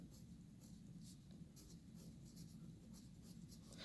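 A pencil writing a name on paper, producing quiet, close scratching strokes in a steady rhythm of short bursts throughout, with no talking.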